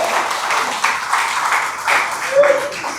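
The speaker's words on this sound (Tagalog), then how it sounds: "Ang hina naman ng palakpak natin para sa Panginoon" Church congregation applauding for the Lord in uneven bursts, moderate and somewhat distant, with a voice speaking over the clapping throughout.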